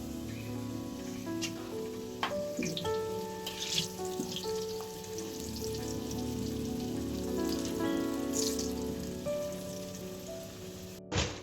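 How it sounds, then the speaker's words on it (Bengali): Potatoes fry in a pan with a soft, continuous sizzle that sits fairly faint beneath a steady tonal hum in the kitchen. "আর এদিকে আমি এখন আলু ভাজছি"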